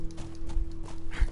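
A video game horse beats out clip-clopping hooves in a quick uneven rhythm, close and fairly loud, over a steady low hum from the game.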